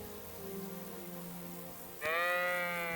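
A sheep bleats loudly and clearly over a steady low drone of farm ambience, from Kingdom Come: Deliverance II, the harmonic cry starting suddenly near the end after several seconds of quieter background.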